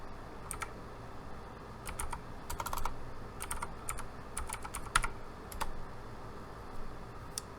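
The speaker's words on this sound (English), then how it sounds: "If I type my username in, then I'm going to have to type my password in" Someone types a username and password on a computer keyboard, scattered light key clicks in short bursts and single taps, quiet and close with no speech.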